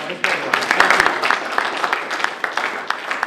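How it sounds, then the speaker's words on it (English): Guests at a business networking mixer break into a round of applause, sharp individual claps overlapping in a lively burst close by, with voices chattering under it. "A round of applause"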